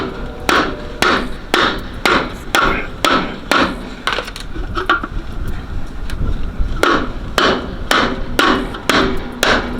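Rally center caps being hammered onto box Chevy wheels, sharp loud metallic whacks in quick bursts with a short pause midway, close up with no talk.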